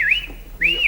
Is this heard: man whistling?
yes